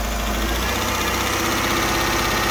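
Engine of a 2009 Dodge Journey after spark plug and coil replacement, running steadily and close, a continuous loud drone with no clear rise or fall in pitch.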